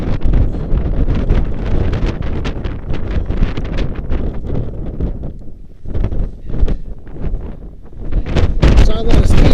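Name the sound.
wind storm on Mount Hood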